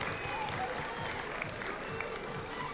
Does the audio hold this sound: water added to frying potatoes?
no